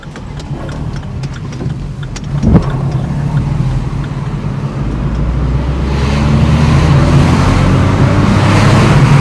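A Vauxhall Corsa engine fitted with an SR Performance ram air induction kit runs loudly nearby, with a low steady drone and a sharp knock early on. The engine note and broadband rush then build and rise as boost comes in.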